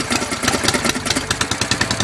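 A Manco Dingo's small engine runs on choke after starting, a close, rapid chugging idle with an even pulsing beat.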